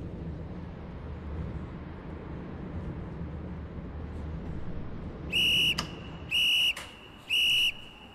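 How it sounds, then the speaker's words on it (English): In a TramSim video game tram depot in Vienna, a loud, shrill whistle is blown three times in sharp, steady blasts over low ambient rumble. "he's just whistled very loudly in our ears."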